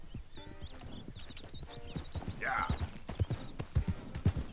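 Horse hooves clip-clop in Red Dead Redemption 2, louder thuds building toward the end, with birdsong and a brief whinny-like cry mixed under a man's speech.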